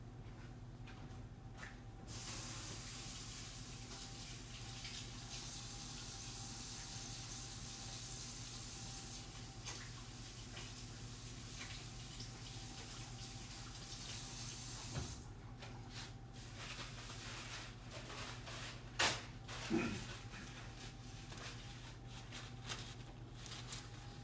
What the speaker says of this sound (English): So at this point, I'm going to wash my hands again.